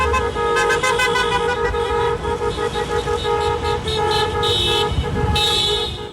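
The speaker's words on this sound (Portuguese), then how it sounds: "Em algumas avenidas, especialmente da zona leste de Teresina, carreatas e buzinaços de indignação." Loud, overlapping car horns honk continuously from a motorcade protest against a partial lockdown on the avenues of eastern Teresina, with longer blasts and short toots layered over a steady traffic rumble.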